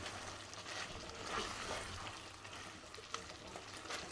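Fried paneer going into a pan for a capsicum paneer dish, giving a soft, steady sizzle with light stirring, fairly quiet and close.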